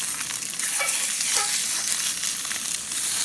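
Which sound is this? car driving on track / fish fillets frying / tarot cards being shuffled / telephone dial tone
fish fillets frying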